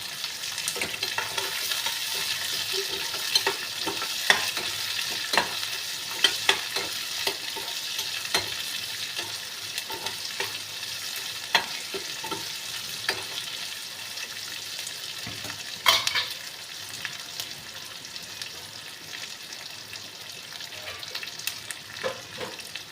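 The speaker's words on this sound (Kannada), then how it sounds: "ಒಂದು ಚಿಕ್ಕದಾಗಿ ಕಟ್ ಮಾಡಿ ಇಟ್ಕೊಂಡಿರೋ ಅಂಥ ಈರುಳ್ಳಿನ ಇದಕ್ಕೆ ಹಾಕಿ ಫ್ರೈ ಮಾಡಿ." Chopped onion fries in a pan for vermicelli upma, giving a steady close sizzle with scattered scraping stirs and small crackles throughout, no voices.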